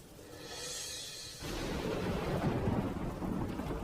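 Steady rush of wind and heavy rain, swelling into a louder roar halfway through, with no voices.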